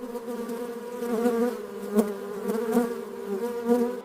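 Close, continuous droning buzz of many honey bees around a hive, steady with slight swells in loudness.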